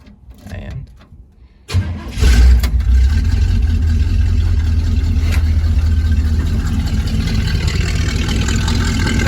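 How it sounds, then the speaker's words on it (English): 1971 Chevrolet C20 truck with a freshly rebuilt carburetor, cold-started on a 35-degree morning after sitting overnight: a quiet moment, a brief crank, then the engine catches and settles into a steady, loud, rumbling idle close by. "After putting that carb on, I'll give you guys a cold start here."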